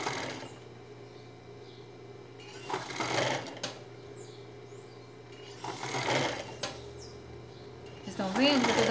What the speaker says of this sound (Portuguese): Vocês podem pegar um pedaço de pano e põe na máquina com o viés.